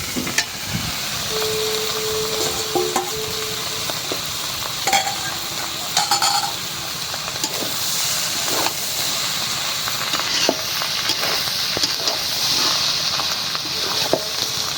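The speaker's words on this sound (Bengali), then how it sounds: "করলা ভাজা হয়ে গেছে, এখন মাছের ডিম দিয়ে মিলাই দিই।" Fried bitter gourd being mixed with rohu fish roe in an oily pan, a constant hissing sizzle with intermittent spatula scrapes and clinks, close up and steady.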